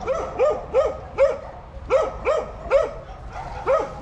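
Stray dogs bark repeatedly in a street in Shkoder, Albania, sharp barks coming in quick clusters of two or three, fairly close and loud over a low background hum.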